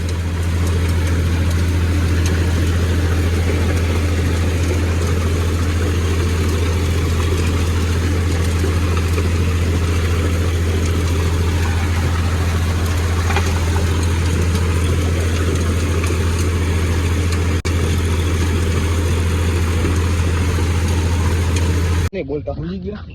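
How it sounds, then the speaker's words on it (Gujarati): A tractor engine idles close by with a constant low, droning rumble for over twenty seconds before cutting off suddenly at the end. "ગુજરાત પહેલી વાર ટ્રેક્ટર રાખ્યું"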